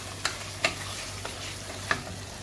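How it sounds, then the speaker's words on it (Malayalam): Chicken frying in a pot with a soft steady sizzle, punctuated by a few light clicks and scrapes of a spoon stirring against the metal, close up. "ചിക്കൻ ഒരു കുറച്ച് വേവാവണ വരെ ഇതിൽ നമുക്ക് ഇളക്കിക്കൊണ്ടിരിക്കാം"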